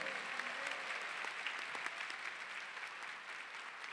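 A crowd at a Catholic priest's sermon claps continuously, a dense even wash of applause that fades slightly toward the end.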